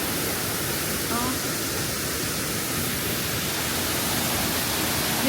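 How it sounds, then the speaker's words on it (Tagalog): Botolan Waterfall rushing continuously, a dense, loud, steady roar of falling water filling the whole stretch with no pauses. "Botolan Waterfall."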